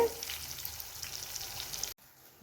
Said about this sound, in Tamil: இப்போ மசாலா தடவுன கத்திரிக்காய்களை ஒவ்வொன்றா நான் போட்டிருக்கேன். நீ இது வறுத்து வரட்டு.